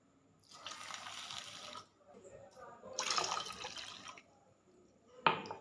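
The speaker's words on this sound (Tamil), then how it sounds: "இப்போ இதில் 2 கிளாஸ் வந்து தண்ணி." Two glasses of water are poured into a pan holding jaggery while making kummayam, a sweet, making two rushing, splashy pours close by. A metallic clank follows at the end.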